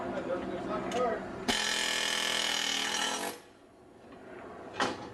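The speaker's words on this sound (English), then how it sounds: "This is an air chisel gun. Works on air, and we're going to press it out right now." A pneumatic air chisel presses out worn parts on a Chevy, a harsh steady rattling burst lasting nearly two seconds, with shorter knocks and handling noises before and after.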